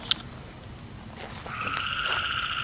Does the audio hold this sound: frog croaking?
yes